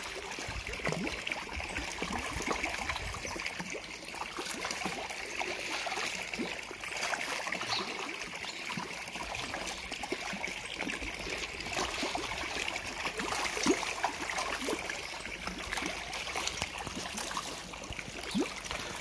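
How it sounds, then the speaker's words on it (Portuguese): Fish in a large tank thrash at the surface while feeding, producing continuous soft splashing and trickling water noise, fairly faint and even, with no voices. "Eles jogam água para todo lado."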